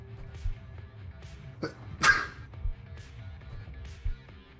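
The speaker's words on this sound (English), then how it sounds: "Oh god, I gotta sneeze." One sharp sneeze bursts out suddenly mid-stream during a Clustertruck speedrunning tournament broadcast, loud and brief against a quiet background with faint clicks and low hum around it.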